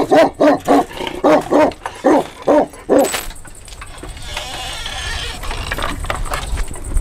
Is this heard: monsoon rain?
no